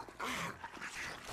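A dog whimpers and yips in a video game, a few close high whines and short cries lasting just over a second.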